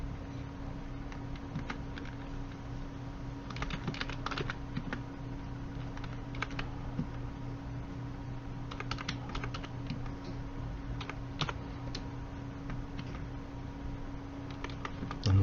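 Keys on a computer keyboard are tapped while working in an Excel spreadsheet, sharp clicks in irregular bursts and singles over a steady low hum, with no talking.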